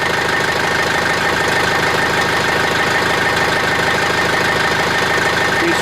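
A John Deere 110 TLB tractor engine idles with a steady, loud, even rumble and knock that holds constant throughout, close by and with no voices.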